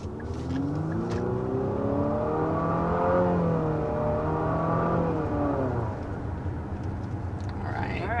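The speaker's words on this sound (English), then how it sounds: "So there was a first acceleration here with this QX55." A 2023 Infiniti QX55 coupe-style SUV accelerates, its engine note rising through sweeping revs that climb and fall, steady and fairly close, with no talk over it.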